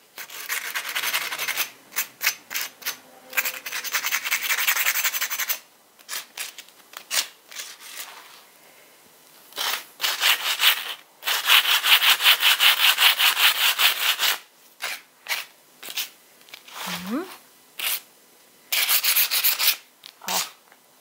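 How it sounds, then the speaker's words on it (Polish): Close-up hand sanding of a piece painted with chalk paint, smoothing the surface in bursts of rough, scratchy back-and-forth strokes separated by short pauses. "Teraz gładzę właśnie, czy wszystko jest gładkie"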